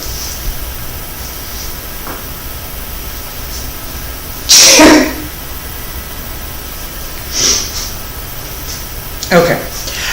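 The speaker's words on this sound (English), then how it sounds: "Nope, going to sneeze." A single loud sneeze bursts out midway, followed by a couple of smaller sniffs or breaths against a quiet room hiss.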